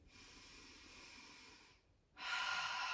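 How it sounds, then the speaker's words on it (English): Slow, deep breathing during a gentle postpartum exercise, a long airy inhale followed by a short pause and then a stronger exhale, close and quiet with no talking. "breathing in lower, middle to the rib"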